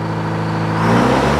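A woodworking machine's motor spins up to a higher speed, its whirring hum climbing in pitch and loudness over about a second.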